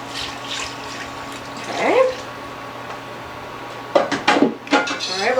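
Sauce for seafood mac and cheese being stirred in a pot: sporadic scraping and clinking of a utensil against the pot, with a brief burst early on and a cluster of sharper clatters near the end, over a quiet kitchen hum.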